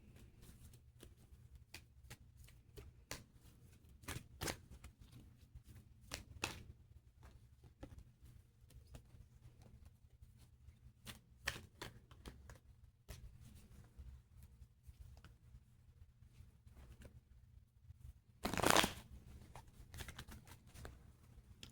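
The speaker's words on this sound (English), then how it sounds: "Only when my cards won't shuffle right like that." Playing cards are handled and shuffled quietly, with scattered soft flicks and taps and one louder riffling burst near the end.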